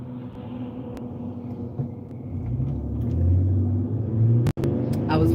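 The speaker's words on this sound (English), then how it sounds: "I was letting a car come by" A car approaching and passing on a street, a steady low engine rumble that swells and builds toward a peak before a brief break, heard alone without talk.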